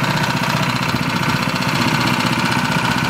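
The engine of a homemade plywood boat idles in neutral with the clutch still spinning, a steady close chugging rumble with a fast, even knock and no voices over it.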